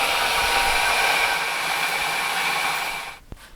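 A milling machine runs on auto feed, making a steady, fairly loud whirring hum with no talk until it fades slightly near the end, where a short knock is heard.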